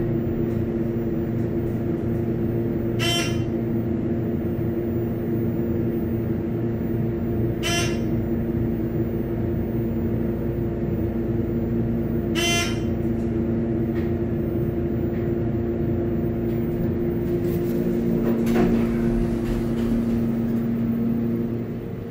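A ThyssenKrupp hydraulic elevator motor in a dorm building runs with a steady loud hum and drone, broken by a few brief clicks or ticks at regular intervals, with no voices.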